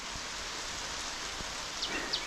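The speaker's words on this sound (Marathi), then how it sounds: "तोपर्यंत पाऊस चालू झाला" Steady rain falls with a dense, even patter, a few brighter drops standing out near the end, no voices present.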